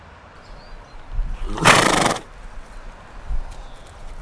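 A horse at a lakeside stop on a trail ride gives one short, fairly loud neigh or snort burst lasting about half a second, set against quiet outdoor background with a few soft thumps and no talking.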